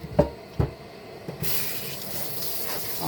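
Tap water starts running as a veal leg is washed, a steady gushing splash that begins after a few soft knocks and continues close by, fairly quiet, with no talk.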